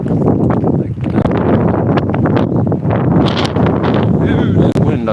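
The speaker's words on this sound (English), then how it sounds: "Ooh, that wind, I tell you." Strong outdoor wind buffeting the microphone, a loud continuous roaring rumble with gusty swells and rustling, and a voice speaking over it in places.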